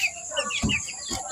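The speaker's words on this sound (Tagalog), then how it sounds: "Nanguli na tong manok guys." A chicken returning home at dusk gives a few short clucks close by, with brief bursts of activity and faint chirps around it.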